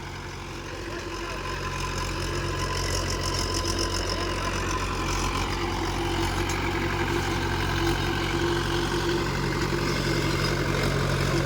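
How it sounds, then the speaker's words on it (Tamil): A Mahindra 575 DI tractor runs with a 42-blade rotavator, its diesel engine a loud, steady, close low rumble and knock throughout, with no speech over it. "இன்ஜினோட சவுண்டுன்னு வந்து பார்த்தீங்கன்னா அப்படியே இதனோட சவுண்டே வேறு மாதிரி இருக்குது"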